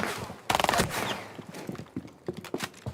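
Rapid gunfire bursts from the Rainbow Six Siege video game crackle in short, quick clusters with a reload in between, fairly quiet and close, with no talk.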